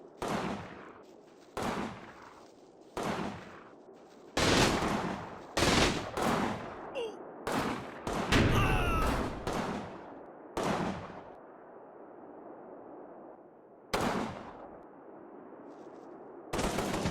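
Bursts of rifle fire and rattling machine-gun volleys ring out in the Normandy orchard battle of the war game Combat Mission, loud, close and repeated in sharp clusters with short gaps.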